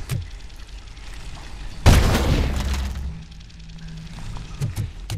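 A single heavy grenade blast booms in a RoboCop: Rogue City firefight, a sharp close burst with a rumbling tail that fades over about a second, followed by scattered lighter gunfire and background game noise.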